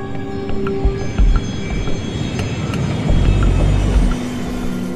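Steady, loud cabin drone of an Embraer Legacy business jet in flight on its way to Manaus in northern Brazil, a continuous broadband engine and airflow roar with faint tonal whines and occasional low rumbles.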